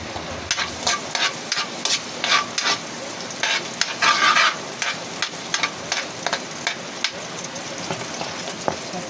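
Garlic frying in a little cooking oil for pork adobo with string beans, a steady sizzle broken by repeated scraping and stirring taps of a utensil in the pan.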